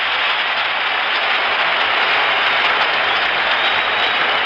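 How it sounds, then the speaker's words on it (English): Roaring baseball stadium crowd at Game 3 of the 1975 World Series, a loud, steady wash of cheering heard through a band-limited radio broadcast, unbroken and dense. "listen to this crowd"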